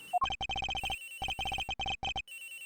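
A cell phone in the video game Ace Attorney Investigations rings with rapid bursts of bright electronic tones in quick repeated groups, loud and clear with short gaps, no talking.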